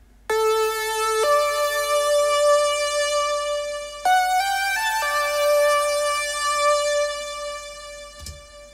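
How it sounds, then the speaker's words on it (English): An 80s-style lead synthesizer plays a slow melody of long, bright, sustained tones with a few clear note changes, alone, and ends with a short click. "ended up with a nice lead sound, a lead sort of synthesizer instead"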